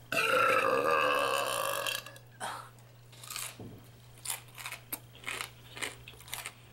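Corn nuts are crunched while eating, starting with a loud burp-like sound and followed by a run of sharp, close crunches in irregular bursts.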